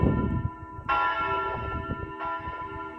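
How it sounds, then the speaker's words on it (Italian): Church bells strike the noon hour in Friuli, two clear resonant strokes about a second apart ringing out over a low murmur of background noise. "adesso stanno anche suonando le campane"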